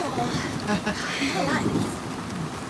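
Steady rain with low rumbling thunder in a thunderstorm, a continuous wash of sound at moderate volume, partly masked by talking.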